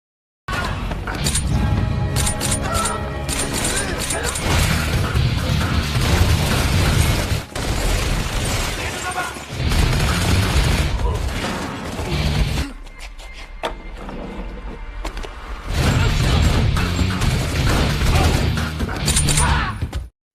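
Action-film gunfight between armed men: loud, dense bursts of gunfire and heavy booms, nearly continuous, with a short quieter stretch midway before the shooting surges again.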